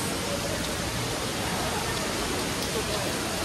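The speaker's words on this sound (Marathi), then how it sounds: "खूपच पाऊस पडतोय पण कणकवलीमध्ये." Dense, even hiss of heavy rain pouring steadily without a break in Kankavli, loud and continuous.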